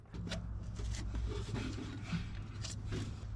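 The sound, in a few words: scraping old gasket off carburetor intake with scraper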